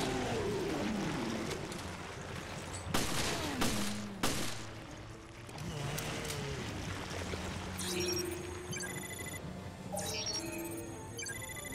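Rapid bursts of pistol gunfire in Resident Evil Revelations crack over a dense layer of synthetic effects and rumbling background music, with a few louder shots standing out.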